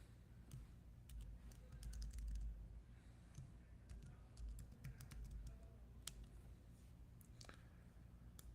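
Quiet clicking of a computer keyboard, irregular bursts of keystrokes typed at a steady pace close by with a low background hum.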